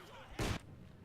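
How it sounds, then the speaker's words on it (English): A single short, muffled boom of a mortar round firing in the World War II strategy game Company of Heroes 2, a brief burst against a low background of battle noise. "Mortars exchanging shots"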